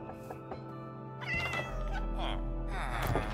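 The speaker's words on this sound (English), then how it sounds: "Did you tame that orange cat?" An orange cat meows in a modded Minecraft game: several clear, close, drawn-out in-game meows scattered over a low background hum.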